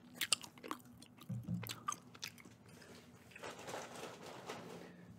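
Gum is chewed close to the mouth with wet, smacking clicks, busier at first and then settling into softer, moist squishing.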